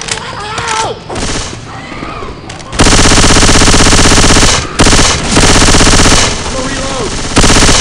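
Loud, continuous automatic gunfire from Left 4 Dead 2, with dense rapid bursts and brief pauses, over game noise and voices calling out.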